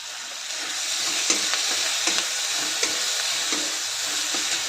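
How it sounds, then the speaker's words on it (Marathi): Okra frying in a pan with onion and tomato, a continuous close sizzle punctuated by regular scraping stirs of a spoon, with no talk. "आता यामध्ये मी भेंडी घालते"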